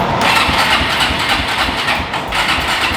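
Kawasaki KFX400 ATV that won't start, its engine sputtering and revving unevenly as throttle is applied, loud and close throughout.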